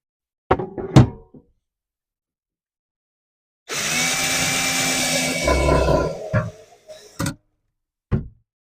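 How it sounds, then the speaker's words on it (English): A power drill drives screws into a mesh basket on a side shelf inside a Honda Element teardrop-style camper: one loud whirring run of a few seconds, framed by short clicks and taps before and after. "I'm just going to put some screws in the mesh."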